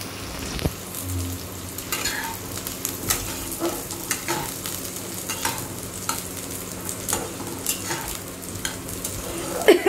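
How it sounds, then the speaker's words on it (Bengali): Carrots frying in a pan while being stirred, a steady sizzle broken by repeated scraping and clattering stir strokes, close and fairly loud with no talking. "গাজরগুলো বেশ ভাজা ভাজা মতো হয়ে গেছে"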